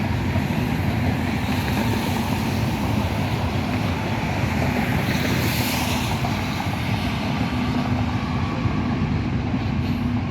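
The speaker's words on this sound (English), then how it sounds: "CSX tanker train." A CSX tanker freight train rolls past close by in a steady, loud, continuous roar of rumbling cars and wind-like rushing that holds for the whole stretch, with no talking.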